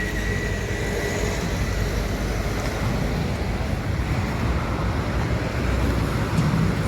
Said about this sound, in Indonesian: Lalu lintas pagi hari terpantau lancar.